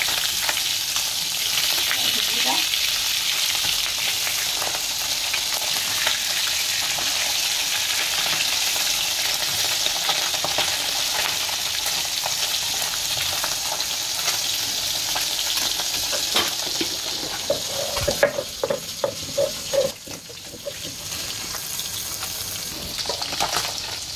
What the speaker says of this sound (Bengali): আমাদের মাছ ভাজা হয়ে গেছে।